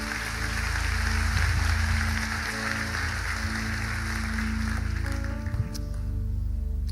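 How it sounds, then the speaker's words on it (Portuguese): Congregation applauding during an evening church service, a steady sustained wash of clapping with organ or keyboard chords sounding underneath. "Dê o melhor aplauso que você pode dar ao Senhor."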